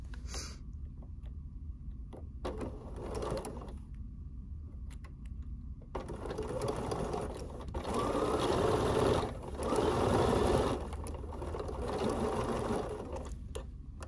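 A sewing machine stitches quilt pieces for a butterfly basket, its motor whirring in bursts that grow louder and more sustained toward the middle, heard close without speech.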